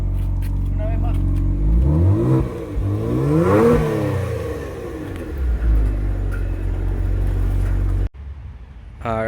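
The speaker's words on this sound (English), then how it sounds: "now I'm gonna just go ahead and turn on the engine and rev it a little bit" A Kia Stinger GT2 fitted with a Borla exhaust idles with a deep rumble, then revs up twice in rising and falling swells, close and loud, before settling back to idle.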